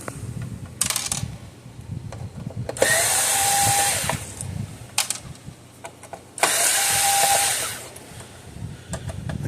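Power drill loosens screws on the circuit board of a Cyclops Brute AC unit, sounding in two close whirring bursts of a few seconds each, with clicks and handling noise between them.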